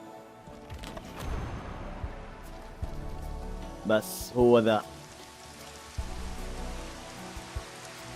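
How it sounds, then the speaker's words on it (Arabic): Steady rain falls as an even hiss in the Final Fantasy XV demo, with a brief tonal game sound in the middle and someone speaking Arabic softly over it. "نزل المطر."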